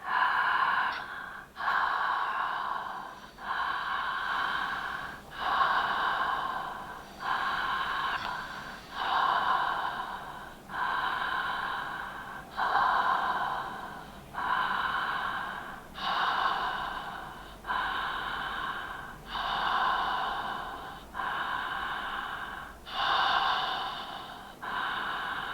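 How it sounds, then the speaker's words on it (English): Slow open-mouthed breathing with a relaxed jaw and throat, each soft ocean-like inhale rising and exhale falling away, about a dozen even breath cycles up close with no talking. "Hope you can hear the inhale has a little invitation, uplift, and the exhale just falls away naturally"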